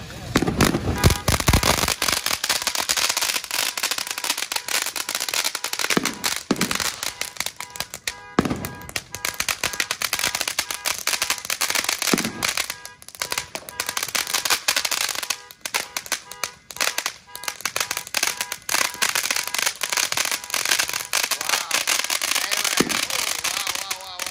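Fourth of July fireworks and firecrackers go off nearby, a dense, loud barrage of rapid crackling pops and sharp bangs that runs almost without pause, with people talking beneath the noise.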